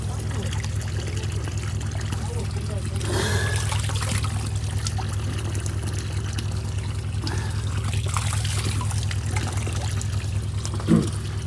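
Holy spring water trickles and pours steadily into waiting buckets and canisters, a constant wash of running water with a low hum beneath and voices over it.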